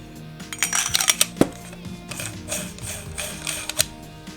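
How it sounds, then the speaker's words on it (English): Plastic switch parts clicking into a Korbanth Obi-Wan Kenobi Episode I & II replica lightsaber hilt, heard as a series of sharp close mechanical clicks and taps, one especially crisp snap, with no talking. "So it's quite a satisfying click."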